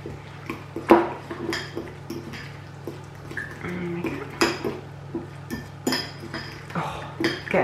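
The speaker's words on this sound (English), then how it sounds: "And then all you're going to do is mix it." Bakewell biscuit mixture with almond essence being stirred in a bowl, a run of light scraping clinks and knocks of utensil on bowl coming at an irregular, fairly steady pace, close by over a low background hum.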